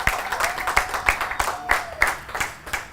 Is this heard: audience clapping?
yes